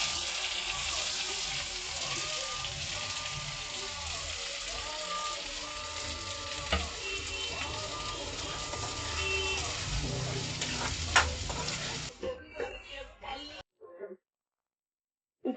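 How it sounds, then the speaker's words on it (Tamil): Cumin and onions frying in a kadai give a steady, rain-like sizzle for most of the clip, with a voice in the background. The sizzle cuts off abruptly near the end. "கடாய் வச்சிடலாம். கொஞ்சம் சீரகம் போட்டுக்கலாம். வெங்காயம் போட்டுக்கலாம்."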